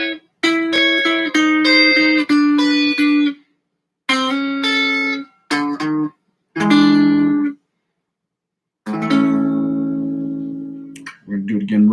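Guitar riff with a clean, bright tone, played close in several separate phrases with brief silences between them, ringing chords and single notes that fade out at the end.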